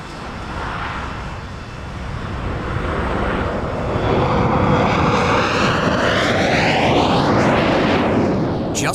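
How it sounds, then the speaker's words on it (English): A Comet jet airliner takes off from London Heathrow, its engine roar swelling loud and steady with a rising whine that sweeps upward as the aircraft accelerates away, no voices over it. "Comet Yoke Peter took off from London Heathrow bound for Johannesburg"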